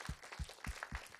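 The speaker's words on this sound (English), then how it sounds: "can we give a big round of applause for them?" Applause at a city council meeting, heard as a short, fairly quiet burst of a few rhythmic hand claps spaced evenly apart.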